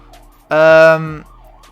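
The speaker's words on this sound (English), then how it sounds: "sorry for the sirens," A loud siren wail swells up suddenly, holds briefly with a bright tone, then fades back under a low hum.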